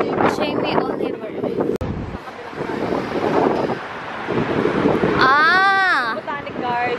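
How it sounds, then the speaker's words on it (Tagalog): Strong gusty wind buffets the microphone outdoors beside a city street near a botanic garden, rumbling loudly throughout while voices talk over it. "Naku, ito na naman ang humahangin."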